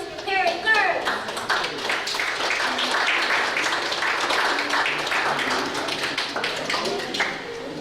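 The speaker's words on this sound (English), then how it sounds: "Now, please put your hands together for Mr. Perry Kurtz." An audience applauding as comedian Perry Kurtz is introduced at a senior comedy show, a dense, steady wash of clapping that holds for the whole stretch, with voices mixed in.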